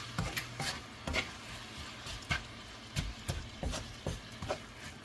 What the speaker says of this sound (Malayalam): അതിലേക്ക് ശരിക്കൊന്ന് ഇളക്കി കൊടുക്കാം.